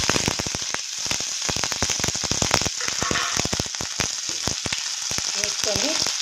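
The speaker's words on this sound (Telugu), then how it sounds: "ఇదిగండి నూనె కాగింది. ఉల్లిపాయలు వేసుకున్నాం. ఉల్లిపాయలు, పచ్చిమిరకాయలు," Onions and green chillies sizzle and crackle in hot oil, a dense steady frying noise with sharp popping bursts throughout, close and fairly loud with no voices.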